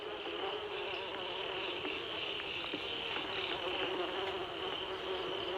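A dense, continuous buzz of many bees swarms around a beehive fence set up to deter elephants, steady and close with no pauses throughout.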